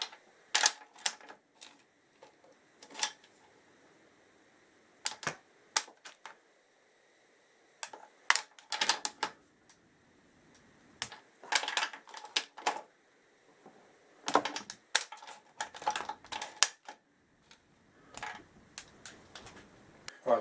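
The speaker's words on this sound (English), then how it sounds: "And then I'll get the torque wrench out," Torque wrench clicking while tightening engine bolts on a Honda XL1000 Varadero motorcycle, sharp close clicks and ratchet ticks in irregular bursts separated by quiet pauses.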